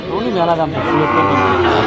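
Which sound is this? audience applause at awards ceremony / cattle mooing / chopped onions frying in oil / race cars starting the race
cattle mooing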